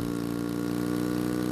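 A motorcycle engine in the Brazilian driving game Brasil Life 2 runs steadily at high revs with a buzzy, even drone, held on a straight for the whole clip with no talking.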